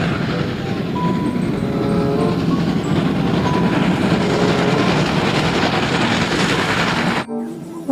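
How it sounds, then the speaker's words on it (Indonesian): A toy train locomotive gives a loud, steady rumbling train sound with a clattering texture, running for about seven seconds before it stops abruptly. "Ini lokomotif kereta api."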